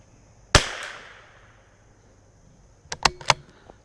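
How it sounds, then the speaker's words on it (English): One sharp, loud crack from a CZ 457 rifle fired at a target rings out and fades slowly. A few seconds later comes a quick cluster of lighter clicks and taps. "we're gonna shoot 5-shot groups at these"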